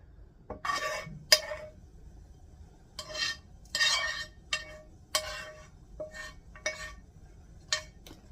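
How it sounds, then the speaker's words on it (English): Metal utensil scraping and clinking against a pan while cooking burger bowl filling, in a series of short bursts spread across the clip, fairly close, with no talking. "Try not to scrape my pan too much here"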